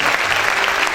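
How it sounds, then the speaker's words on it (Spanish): A church congregation's loud, continuous applause, dense and unbroken for about a second, close and full. "Aplaude fuerte al Rey de Gloria."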